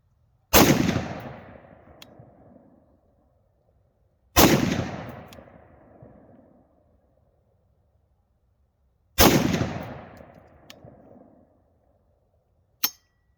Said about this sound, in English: I'm gonna shoot just free-handed here, just a few rounds just to see how it does